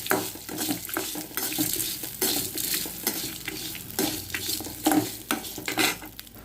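Spices fry in a pan with a close, busy sizzle, broken up by repeated scraping and stirring strokes and a few clinks of a utensil against the pan.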